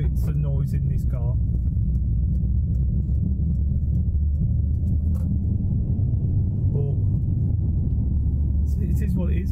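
Steady low engine and road rumble inside a 2005 Peugeot 307 CC convertible while driving, a constant droning hum with a faint voice briefly heard at the start and end.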